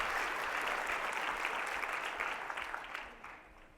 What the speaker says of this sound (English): Give a round of applause to our